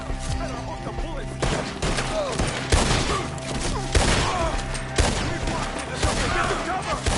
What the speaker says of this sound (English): Shoot the ones up there first!